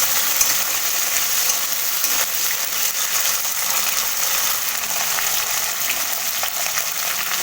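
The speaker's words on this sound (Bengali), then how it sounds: "সিমটাকে ভালোভাবে একটু ভেজে নেব" Continuous loud sizzle of sliced flat beans frying in a pan of hot oil, with occasional stirring scrapes, close and steady, no speech.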